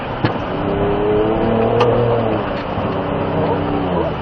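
Ford Ranger Raptor pickup accelerating hard around a driving course, engine note rising steadily and loud up close, with a brief coach's voice near the start.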